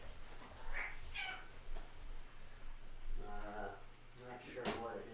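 A cat named Roast Beef meows several times in short, distinct calls against a low indoor hum, with a person talking nearby.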